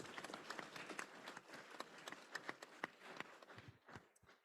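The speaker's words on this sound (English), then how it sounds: "can we give Alex a round of applause?" Conference audience applauding a speaker at an ICAE World Assembly session, faint and somewhat distant, a dense patter of claps that thins out toward the end.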